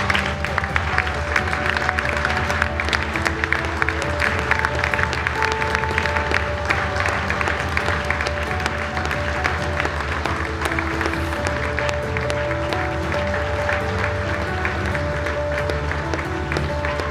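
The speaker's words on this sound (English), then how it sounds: "Everybody stand and give these two courageous young ladies a huge round of applause" A gym crowd at a girls' high school basketball game claps and cheers in sustained, dense applause for two players, with a low musical tone running underneath.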